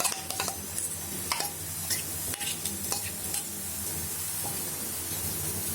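Besan omelet batter with vegetables sizzling in butter on a pan as a spoon spreads it out, a steady close hiss broken by quick scrapes and light taps of the spoon.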